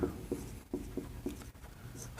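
Chalk or marker strokes on a board during a lesson, a run of short scratchy taps repeating roughly every quarter second, close and moderately loud, with faint room noise between strokes.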